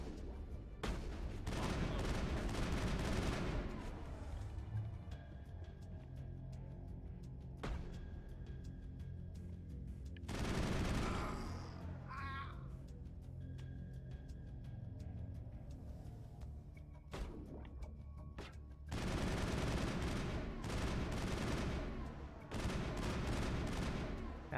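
Gunfire in the Mass Effect video game: loud bursts of rapid automatic shots in several volleys, separated by quieter stretches of ambience and a brief electronic tone, with sharp cracks near the start.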